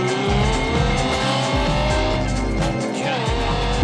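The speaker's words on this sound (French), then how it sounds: "On reconnaît le bruit de cette V10" A Lamborghini Gallardo V10 is driven hard on a country road, its loud engine note rising and falling through quick gear changes and revs, close by with a rasping high edge.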